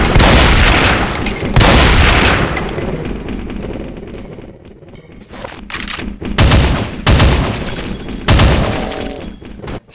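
In a Doom mod, a Chaingun Fiend fires its chaingun in loud, rapid bursts of gunfire separated by brief lulls, close and harsh with booming impacts.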